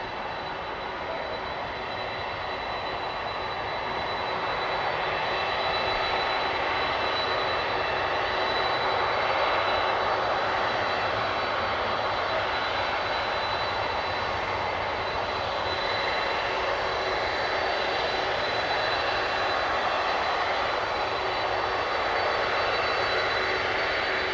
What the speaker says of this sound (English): What a beast of a plane.